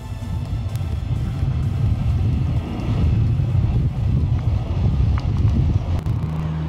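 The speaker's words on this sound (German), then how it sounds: "Markant ist das Geräusch der Lüfter." Cooling fans of a DB class 111 electric locomotive hauling double-deck regional coaches produce a steady, heavy low roar that stays constant throughout, close and without speech.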